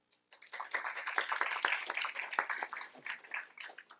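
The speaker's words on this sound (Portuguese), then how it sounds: "espero que essas palmas sejam para os artistas e não para mim" An audience clapping for the artists at an art contest announcement, a crowd of hands starting abruptly, swelling into steady applause, then thinning out near the end, moderately loud in a room.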